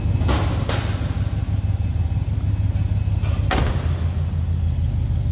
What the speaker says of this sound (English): Door closes nicely for hardly pushing it.